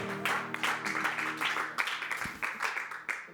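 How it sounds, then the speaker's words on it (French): Audience at a French comedy event applauding a performer's entrance, scattered hand claps rising and falling in uneven bursts, moderately quiet, with faint tonal hum behind. "sous vos applaudissements"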